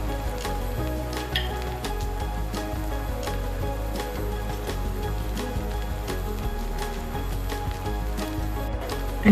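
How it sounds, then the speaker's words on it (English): Onions with turmeric and chilli powder frying in a pan for a prawn and potato masala, a steady close sizzle with occasional clinks and scrapes of stirring throughout. "I'm turning the fire to low and stirring these ingredients to roast the chilli powder."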